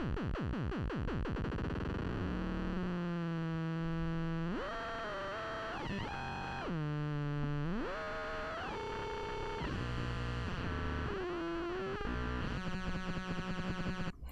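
A harsh, distorted Korg Monologue synthesizer tone with a sawtooth LFO, its pitch jumping and sweeping in repeating ramps, loud and continuous, with gritty buzzing overtones throughout.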